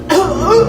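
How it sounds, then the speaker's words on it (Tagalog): An elderly man, 75 years old, gives one short harsh cough that breaks into a wheezy, voiced throaty sound, close and loud, lasting under a second. "Oh, ayan na! Inuubo na!"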